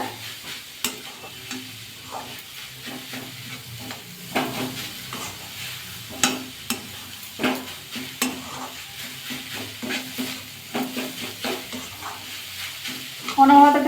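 Coconut and jaggery stirred in a wok for a winter pitha sweet, a steady series of scraping, sizzling strokes of the spatula against the pan, close and fairly loud, with no talking.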